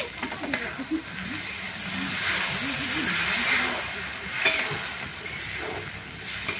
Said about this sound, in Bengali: এবার আমি এখানে দিয়ে দেবো জল